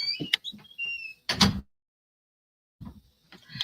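A solid door thud near the middle after some small clicks and rattles, followed by a moment of silence and faint shuffling.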